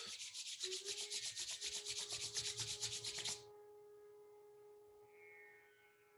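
Palms rubbing briskly together during a yoga session, a close, rhythmic, steady swishing for about three seconds that then stops abruptly, leaving a faint hum in a quiet room.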